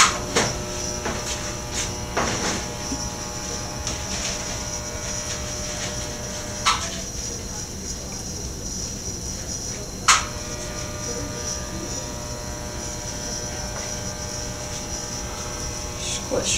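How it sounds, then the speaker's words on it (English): A glass bead heated in a torch flame gives a steady, loud roaring hiss that runs the whole time, with a few brief clicks and a short lull partway through. "I'm going to heat up my bead again."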